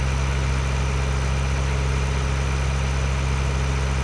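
A tractor engine in a farming simulator running the MoreRealistic mod, a loud steady low-pitched idle rumble with an even throb that never changes, no talk.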